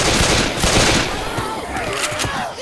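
Rapid bursts of gunfire from the video game Left 4 Dead 2, loud crackling shots firing in quick succession through the short stretch, with game noise behind.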